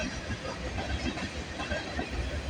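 CN M399 freight train rolling past at Bronte, a steady, dense rumble of railcars with a broad continuous roar and low wheel noise throughout, loud and close.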